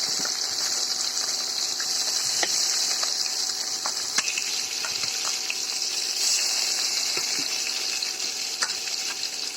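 Katla fish pieces fry in hot white oil in a wok, giving a steady, dense sizzle with scattered pops and light crackles that runs the whole time, close and with no voices.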